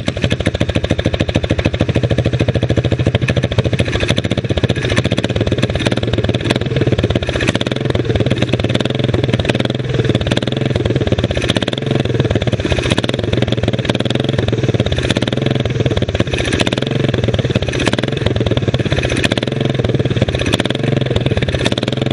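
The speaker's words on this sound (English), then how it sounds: "I gotta mess with that carburetor some more. It's not wanting to idle just right." A springer motorcycle engine with a carburetor problem runs loud and close for a long stretch, a steady throbbing rumble with uneven pulsing instead of a smooth idle.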